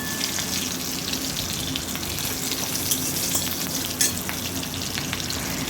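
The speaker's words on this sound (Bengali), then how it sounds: "ভালো করে একটু এদিক ওদিক করে ভেজে নেব" Ginger paste and panch phoron fry in a pan with a steady, dense sizzle that holds evenly throughout, close and fairly loud, with a few small pops and no voices.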